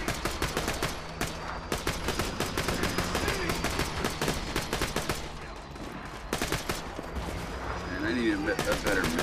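Rapid bursts of minigun fire in the Borderlands 2 video game, loud dense volleys of gunshots running nearly continuously with short gaps, along with a few explosion-like thuds.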